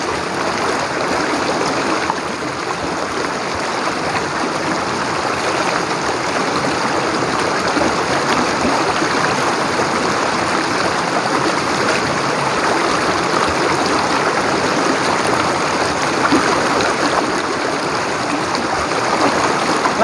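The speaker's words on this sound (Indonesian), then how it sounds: "Kita cuci muka dulu teman-teman." Flowing water of a forest stream at a jungle campsite, a steady broadband rush and trickle filling the whole stretch at close range, with no talk over it; face-washing splashes are not clearly separable from the current.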